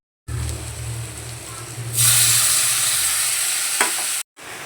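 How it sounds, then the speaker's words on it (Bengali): Spice paste of green chilli, ginger and garlic frying in a pan for an aubergine and prawn dish, a steady close sizzle that swells sharply louder midway, with a brief clatter near the end. "তো দেখো মশলাটা কষাতে বসিয়ে দিয়েছি।"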